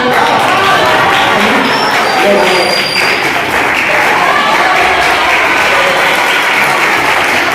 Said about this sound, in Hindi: इसी तालियां काफी नहीं परफॉर्मेंस के लिए